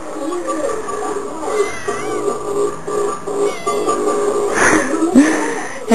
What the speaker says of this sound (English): And there's a teeny kitty cat. It's really tiny.